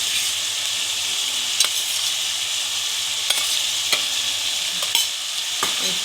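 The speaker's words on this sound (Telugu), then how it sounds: "వేసుకుని కలుపుకోవడం." Yogurt and spices being stirred in a pan for vegetable biryani, a steady close scraping and wet mixing with a few sharper clinks of the spoon against the pan, no talking.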